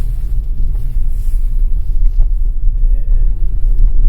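An all-wheel-drive vehicle runs a slalom course on snow in two-wheel-drive high mode, its engine and tyres making a steady, loud low rumble throughout, with a few faint higher rustles.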